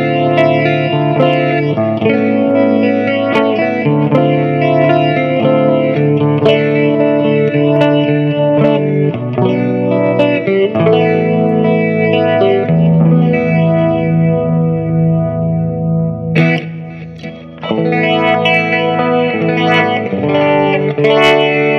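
Electric guitar played through a Fender Mustang LT25 amp on its slow spin Leslie-style preset, sustained chords swirling with a wavering rotary chorus and echo, loud and continuous with a brief dip near the end and no talking.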